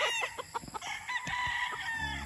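Seven-month-old Sweater over Boston Roundhead gamecock stags crow and cluck nearby, sharp repeated calls over a steady background hum.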